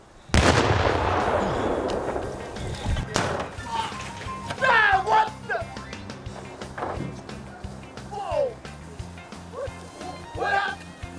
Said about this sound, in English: There's a slight chance we may have overestimated how big the bomb needed to be.